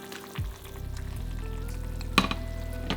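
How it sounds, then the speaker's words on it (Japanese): Shrimp meat hitting a hot frying pan for a creamy shrimp pasta, a sizzle that jumps up and then holds steady, with one sharp clack of a utensil, close and without talk. "エビの出汁を取ってる間に片側でフライパンでエビの身の方を炒めていきます"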